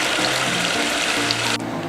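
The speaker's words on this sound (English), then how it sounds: "Drop it down, and gravity takes the water out of the dirty water tank." Water gushing steadily out of the dirty water tank of a Tennant 5700 floor scrubber, a close, continuous rushing pour with a low hum beneath it, no voices.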